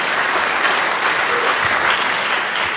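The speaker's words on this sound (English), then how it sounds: "Let's give him another round of applause because it's so consequential." A town hall audience in Astoria, Oregon delivers a loud, steady round of applause, dense clapping close and continuous throughout.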